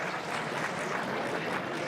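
Audience applause at a book launch marking 150 years of the Sagrenti War: a steady, dense wash of clapping from a crowd, moderately faint, with no talk over it.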